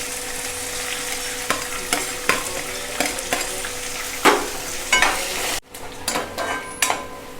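Finely chopped onion fries with green chilli in a pan, giving a steady close sizzle. Repeated scraping strokes of a stirring utensil sound over it, and one brief dip occurs near the end.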